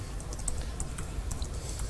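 Rapid, light keystrokes clatter on a computer keyboard during live coding, a steady quiet run of clicks heard close up with no talking.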